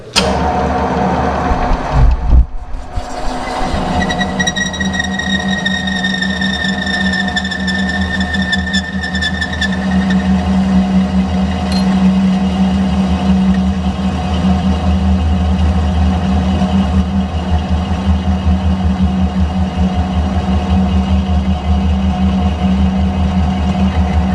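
A lathe bores out a Peugeot wheel rim with a cutter, a loud steady machine drone with a high whining tone early on that fades as the cut continues.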